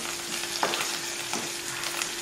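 Onion, garlic, coriander and curry leaves sauté in a pan with a steady close sizzle and a few soft scraping stirs. No one speaks.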